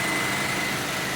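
A Yamaha G23A utility cart engine runs steadily close by, a continuous mid-pitched drone with a faint high whine and no break in level.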